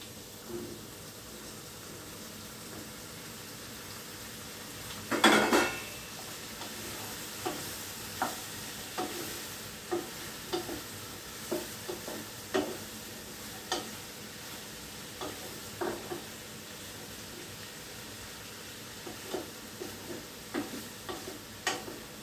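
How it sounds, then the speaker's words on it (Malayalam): Baby jackfruit is tipped into a hot pan and stir-fried: a sharp clatter and hiss as it lands, then a soft steady sizzle broken by regular spoon knocks and scrapes, fairly quiet and close. "ഇനി നമുക്ക് നമ്മുടെ ചക്കക്കുഞ്ഞിട്ട് കൊടുക്കാം"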